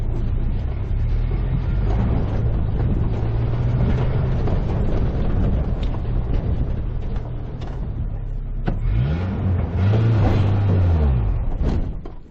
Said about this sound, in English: Let's see if it can do a burnout in the dirt.